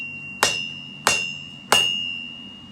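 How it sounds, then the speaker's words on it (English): Three sharp, ringing metallic hammer blows land about 0.6 seconds apart on the edge of an anvil while a lid lifter is forged, each one decaying with a sustained high ring. "work it on the edge of the anvil"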